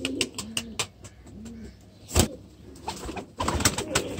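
Pet pigeon cooing nearby in a few soft, rounded calls, interrupted by a sharp clatter midway and busier rustling and background noise toward the end.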